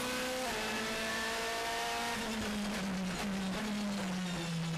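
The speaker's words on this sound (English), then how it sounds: "Here's another shot from onboard Martin Tomczyk's car." Onboard a DTM touring race car at Spielberg in 2013, the engine drones loud and close throughout, pitch rising and dropping through gear changes with a steady harsh roar and no talk.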